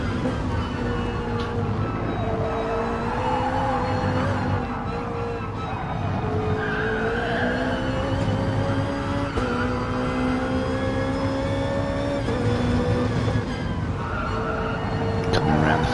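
Porsche race cars in a racing video game, engines droning and revving continuously with rising and falling pitch through gear changes and occasional tire squeal, under a commentator's voice.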